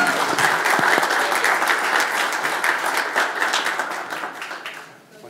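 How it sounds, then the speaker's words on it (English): An audience at a Mi'kmaq community live-streamed event breaks into sustained applause, dense close clapping that gradually thins and fades out over about five seconds. "how about a big round of applause for Chris Gugu"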